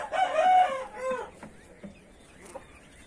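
A large rooster crows once up close, a long loud harmonic call followed by a shorter tail, with faint farmyard noises after it and no talking.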